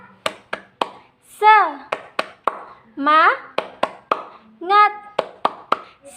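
A rhythmic 'tepuk semangat' clapping chant at an Indonesian children's storytelling session: sharp claps in a steady pattern alternate with short sung vocal phrases, close and clear.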